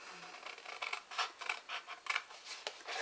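Scissors snip through paper for a gift box bag in a series of short, quiet, close cuts with an irregular rhythm.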